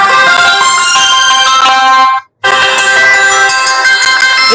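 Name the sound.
phone startup and shutdown jingles, ringtones, SMS and alarm tones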